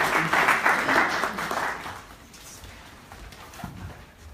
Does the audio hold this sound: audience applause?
yes